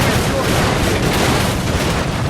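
Dense, continuous roar of shooting and bombing explosions in Minecraft, loud and sustained with no pause, blurred into a constant rumbling blast.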